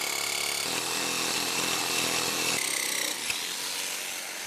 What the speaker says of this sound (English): I'm just gonna jigsaw it out real fast.